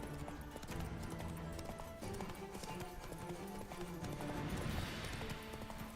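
Roach, the horse in The Witcher video game, gallops in a steady rapid clip-clop of hooves over a dense, continuous game soundtrack, with no voices.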